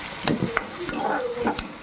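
Onions sautéing in a pan as a spoon stirs them, with a steady soft sizzle and several sharp scraping strokes against the metal, close and fairly loud, no talking.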